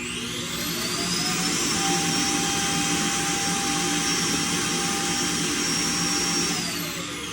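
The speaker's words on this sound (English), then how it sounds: "the Roomba decided to park and clean itself right there" A Roomba robot vacuum whirs steadily and loudly as it docks and empties itself, a constant close motor roar with a high whine that holds for the whole stretch and fades slightly at the end.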